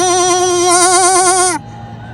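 At the Mahakumbh in Prayagraj, a voice imitates a goat with one long, loud, quavering bleat that wavers steadily before cutting off abruptly, leaving faint background hum.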